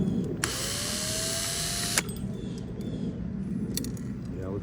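A power drill whines steadily for about a second and a half while boring into a scrap dental office light, then stops, leaving faint rattling and handling clatter of metal parts.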